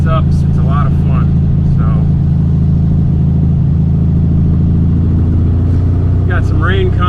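A classic Volkswagen Beetle engine drones steadily and loudly while driving, with short chirps and squeaks heard over the constant hum.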